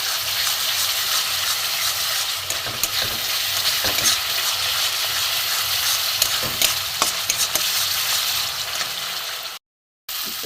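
Spices and salt fry in oil for a fish-head curry, sizzling steadily and close up while being stirred and scraped continuously. The sound drops out briefly near the end.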